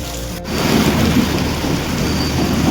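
Heavy rain pours in a dense, loud, continuous hiss while a deep rumble of thunder rolls underneath through the whole stretch, close and unbroken.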